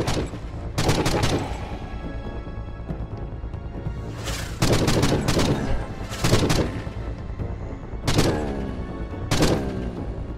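Explosions and booming gunfire in the shooter game Forgive Me Father come in loud, repeated clusters of blasts with brief lulls between them.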